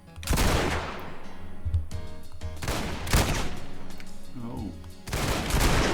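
Enemies in the video game Hard Boiled fire in rapid bursts, sharp gunshot volleys repeating every second or so, mixed with game effects as a player briefly reacts.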